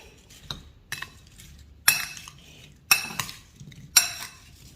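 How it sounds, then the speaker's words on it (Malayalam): A spoon scrapes and clinks against a bowl while fruit is mixed with sugar, five distinct strokes landing about a second apart in a close, quiet setting. "ഈ ഒരു ഫ്രൂട്ട്സ് എല്ലാം കൂടെ ഈ പഞ്ചസാരയും കൂടെ ചേർത്തിട്ട് നല്ലതുപോലെ മിക്സ് ചെയ്തെടുക്കാം"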